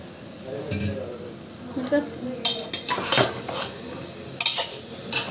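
Masala rice being stirred in a pan with a metal spoon, scraping and clinking against the pan in irregular bursts over a faint sizzle, with background voices.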